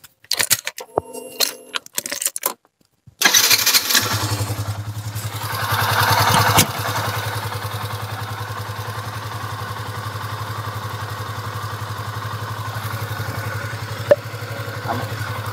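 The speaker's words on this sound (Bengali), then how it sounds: "তো আমরা আবার বাইকটা স্টার্ট দিচ্ছি" Keys jangle and rattle, then a motorcycle engine fires up with a sudden roar, settles into a steady low idle nearby and keeps running alone, with one brief click near the end.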